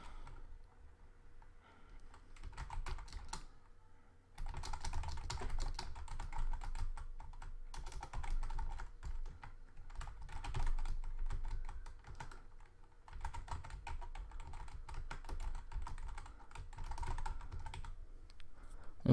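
Keyboard typing fills the whole stretch: a steady patter of keystrokes, fairly close and moderately loud, with a short pause near the start and again around the middle, while someone enters an example into a WordPress poll form.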